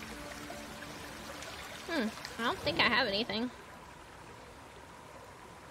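Steady flowing water rushes in the background of the Dark Parables: Swan Princess and the Dire Tree hidden-object game, a soft continuous wash under a brief stretch of nearby talking.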